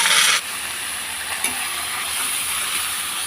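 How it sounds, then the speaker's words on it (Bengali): Prawns rubbed with salt and turmeric fry in a pan with ginger, giving a steady, close, bright sizzle throughout, with a brief stirring clatter partway through. "তা এবারে আমি চিংড়ি মাছগুলো ভেজে নেবো এর সাথে।"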